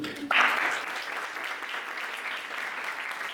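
An audience at a university domino event in Jakarta breaks into applause, a sudden burst of crowd clapping that settles into a steady, even wash for the rest of the moment.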